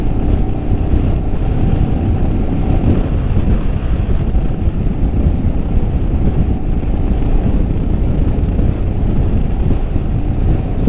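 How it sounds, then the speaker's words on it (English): Strong, steady wind buffeting the microphone while riding a Royal Enfield Himalayan 411 motorcycle on a hot day, a constant loud low roar with no let-up throughout. "as you can probably hear, it's very windy again today"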